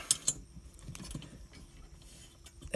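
A ratchet tightening bolts on a rear rack fitted to a Himalayan motorcycle, heard as faint, close clicks and metallic taps with a couple of sharper clinks at the start and end, no talking.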